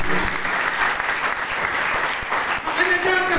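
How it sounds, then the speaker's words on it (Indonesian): A church congregation claps during a sermon, a short burst of dense, close applause with voices mixed in. "Beri tepuk tangan terbaik buat Yesus."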